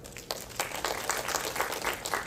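Audience applause at a COSCUP 2016 tech conference talk, a sustained round of clapping from a seated crowd welcoming a speaker, fairly even and dense for a couple of seconds.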